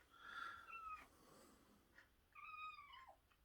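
A cat meows twice, a short cry followed by a longer drawn-out one, fairly faint against a quiet room.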